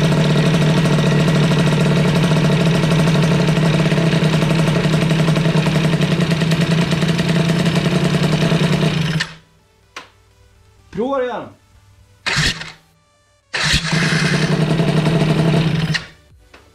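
A Yamaha Aerox scooter, worked on during a starter motor replacement, idles loud and close with a steady buzzing engine note. It then cuts out, followed by short whirring start attempts and a restart, with a brief spoken remark.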